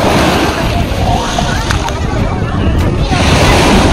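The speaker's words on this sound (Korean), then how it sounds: "우와. 파도 봐." Ocean surf washing onto a beach at Wangsan Beach on Yeongjongdo by the Yellow Sea, Incheon, a steady broadband roar with wind buffeting the microphone throughout.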